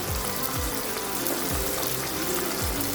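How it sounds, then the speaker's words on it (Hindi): Half a glass of water pouring into a hot pan of finely chopped tomatoes, a steady rushing hiss with faint sizzling underneath and no voices. "आधा गिलास पानी शामिल करेंगे"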